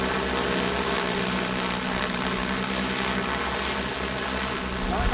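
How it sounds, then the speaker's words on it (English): A heavy-lift drone's motor and propellers run steadily, a loud, continuous close-up whir with a constant pitch throughout. "Now the motor sounded a lot better too"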